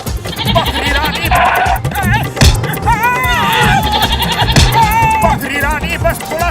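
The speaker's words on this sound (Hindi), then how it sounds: "अरे बकरी रानी, क्या हो गया तुम्हें?" A goat bleats repeatedly and loudly up close while being milked, wavering cries overlapping one another across the stretch, with some thumps and clatter of movement underneath.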